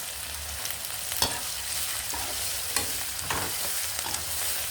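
Onions frying in a pan as turmeric is added, a continuous close sizzle broken by a few distinct scrapes of a spoon stirring, steady and alone without talk.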